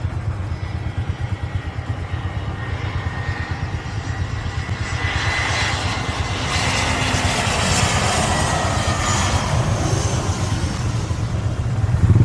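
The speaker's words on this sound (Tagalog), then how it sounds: "So, ayun yung eroplano, AirAsia flight yon, yun yung naglanding." An AirAsia passenger jet lands near the seaside road at Caticlan: a broad jet roar swells steadily and grows louder, heard from outdoors at moderate distance with traffic-like rumble beneath, no talk.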